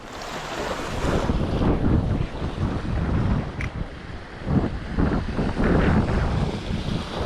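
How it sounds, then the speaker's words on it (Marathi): Strong wind buffets the microphone in loud, continuous gusts on a Konkan beach, with waves and surf rumbling underneath. "वारा खूप इंटेन्स आहे."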